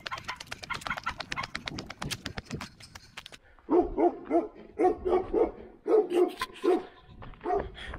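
Guard dogs at a villa bark repeatedly from a short distance in a steady run of loud, rhythmic woofs. Birds chirp busily before the barking begins.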